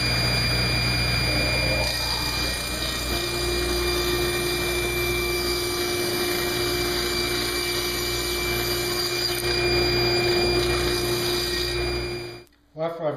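A power tool cuts tapers on cherry table legs with a loud, steady drone and a constant whine for about twelve seconds, then winds down near the end.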